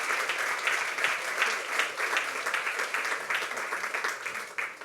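A conference audience applauds its panel speakers after a discussion on AI and democracy, with sustained, even clapping from a crowd heard at moderate distance and no speech over it.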